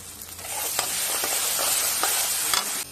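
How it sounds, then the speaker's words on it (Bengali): Turmeric-laced masala spice paste frying in a pan as it is stirred, a steady bright sizzle with repeated scraping strokes of the spoon, close and continuous until an abrupt stop near the end. "একটু জল দিয়ে মশলাটাকে ভালো করে কষিয়ে দেব"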